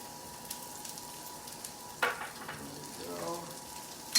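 Carrots for a chow mein drop into hot oil in a pan and fry with a soft, steady sizzle, broken by a few sharp clinks and scrapes of a utensil.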